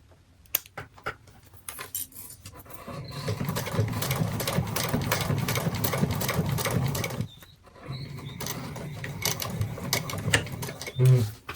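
A sewing machine top stitches a laptop bag in a long, steady mechanical whir of several seconds, with brief clicks and shorter runs before and after, and a person speaking nearby.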